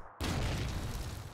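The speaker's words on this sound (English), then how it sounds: "Random grenade." A loud, close grenade blast in Call of Duty 2 erupts suddenly from silence, followed by a sustained roaring rumble that fills the rest of the moment.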